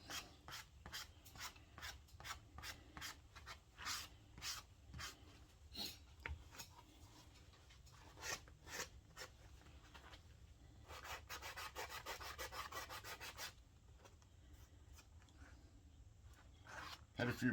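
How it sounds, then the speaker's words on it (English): A sanding block rubs back and forth across a leather revolver holster, giving steady rhythmic scraping strokes that grow denser and more continuous midway, heard close with faint background noise. "Sanding block."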